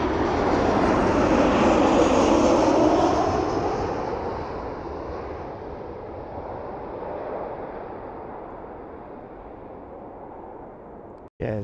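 A jet airliner passes at Malaga Airport, a loud broad roar that peaks early and then gradually fades as it moves away, ending with a brief handling knock.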